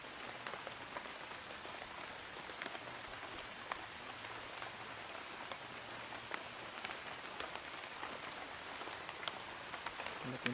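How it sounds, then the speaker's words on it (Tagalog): Rain falls on a jungle trail on the way to Bihag, a faint, continuous hiss of drops on leaves and surfaces with scattered louder patters and occasional soft murmurs of people in the background. "Sabi mga tol, umulan na."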